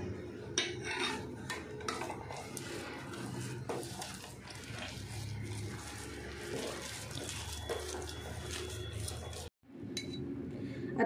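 Mango puree is stirred into a rava mixture in a pan, with soft scraping and occasional clinks of a spoon against metal, quiet and close, continuing for several seconds before a brief silence.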